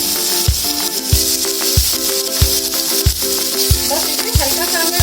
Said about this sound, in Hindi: बस इसे हल्का सा हमें भून लेना है, लगभग आधा मिनट।